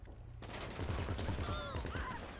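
Rapid gunfire in GTA 5 during a zombie apocalypse escape. Quick repeated shots crackle in a dense burst with layered game effects, and excited voices shout over it.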